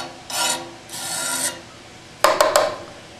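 Clay coating is scraped thin along a blade: two longer rasping strokes, then three quick short scrapes, close and clear with no voices.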